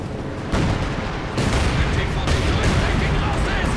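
A light artillery barrage lands in Company of Heroes 2, a broad continuous rumble of blasts that swells at several points and keeps going without letup, with some speech present.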